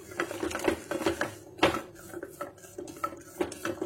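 Badam burfi mixture being stirred in a pan: a spoon scrapes and clinks against the metal in an uneven, steady rhythm, close and fairly clear, with no talking.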